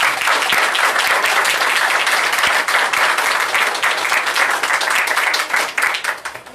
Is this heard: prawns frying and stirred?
no